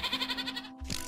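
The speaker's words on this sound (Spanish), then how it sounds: "Otra cabra." A Minecraft goat bleats in a short, quavering, nasal call that wobbles rhythmically before cutting off, moderately quiet, followed by a brief soft thump.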